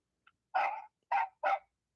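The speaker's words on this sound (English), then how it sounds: "that's my service dog the VA gave me" A service dog barks three times, close by and fairly loud, one bark then a short pause and two quicker ones, with a tiny yip before them and silence between.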